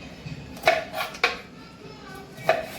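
A knife cuts upright through a kantoli (spiny gourd) vegetable on a board, making three sharp close taps over a faint background murmur.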